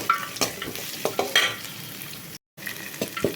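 Onions for Maggi noodles being stirred in a pan, a light sizzle broken by scraping strokes of a spatula, close and moderately loud, with a brief silent gap.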